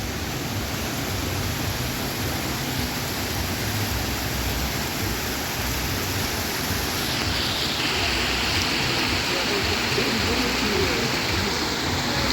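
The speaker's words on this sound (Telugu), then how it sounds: "ఇక్కడ వాటర్ ఫౌంటైన్." Water from the fountain at the Merlion statue in Singapore pours in a steady, even rush of broadband noise that stays constant throughout, heard from nearby with no voices.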